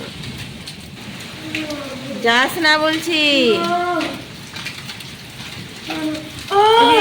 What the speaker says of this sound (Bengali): তো বন্ধুরা দেখো শিলাবৃষ্টি হচ্ছে, কত শিলাবৃষ্টি দেখো